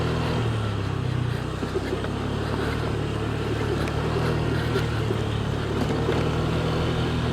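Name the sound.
scooter riding over rough road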